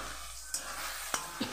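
Masala of salt, turmeric and red chilli powder being stir-fried in a pan with jackfruit and prawns: a steady low sizzle broken by three sharp spatula scrapes or taps, without voices.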